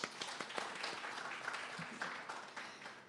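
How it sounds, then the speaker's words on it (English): Symposium audience applauding, fairly quiet and somewhat distant clapping from a modest crowd, continuous with scattered sharper individual claps. "ask that you give yourself a round of applause for joining us in person"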